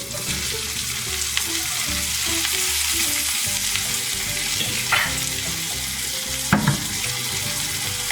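Minced garlic and onions frying in a pan, with a steady close sizzle throughout and a few sharp clinks and scrapes of utensils near the end.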